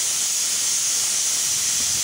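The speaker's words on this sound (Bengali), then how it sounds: "সেই মটরটা ধুয়ে একটা প্রেসার কুকারে দিয়ে দিয়েছি। তারপরে দিয়ে দিলাম পরিমাণ মতো জল, লবণ আর হলুদ দিয়ে এবার কয়েকটা সিটি মেরে নেব।" A pressure cooker of soaked peas with water, salt and turmeric gives off a steady, continuous steam hiss, fairly loud and unbroken throughout.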